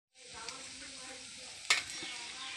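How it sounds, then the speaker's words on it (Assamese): Dried fish frying in a pan in a home kitchen, a steady close sizzle with a brief sharp pop or clatter partway through. "শুকান মাছখিনি অকণমান সময় ভাজি ল'ম"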